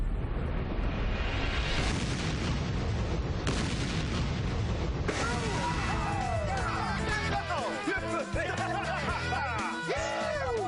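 A demon-catching device is blown up, setting off a loud, sustained blast with heavy booming and crackling debris that rolls on for several seconds.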